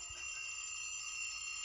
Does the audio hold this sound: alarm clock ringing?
yes